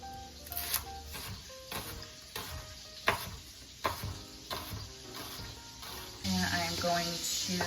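A steak sears in a hot pan for a beef stroganoff, a steady sizzle broken by repeated clattering knocks and scrapes of utensils nearby, loudest toward the end.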